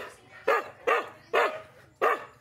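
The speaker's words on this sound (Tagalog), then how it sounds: "Ito mga aso ko matatanda na to" Rescued Aspin dogs bark in four loud, evenly spaced outbursts close by, each a sharp bark over a low background murmur.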